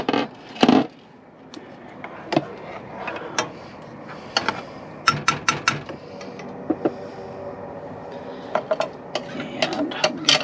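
Noodles are stirred in a pot on a camp stove, with irregular scrapes and clinks of a utensil against the pot and short pauses between strokes.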